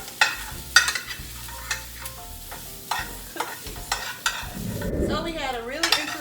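Swedish meatballs fry in a pan with a soft sizzle under repeated clinks and scrapes of a utensil turning them, close up, and a louder burst of bubbling and crackling near the end.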